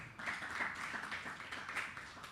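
Church congregation at a worship service clapping together, a steady stream of overlapping hand claps at moderate distance, fairly soft and alone without talk.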